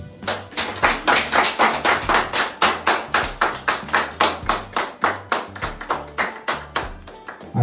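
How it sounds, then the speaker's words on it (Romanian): Rhythmic group clapping for a daughter's 15th birthday surprise, roughly two dozen loud, evenly spaced claps in a steady beat over a low background hum. "La mulți ani și încă o serie de aplauze să mă încurajăm."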